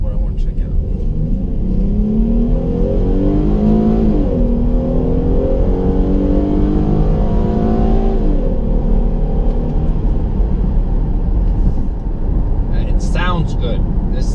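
A 2014 Ford Edge Sport with the 3.7-liter V6 and 22-inch wheels accelerates, its steady loud engine rumble and road noise rising in pitch under continuous talk from inside the cabin.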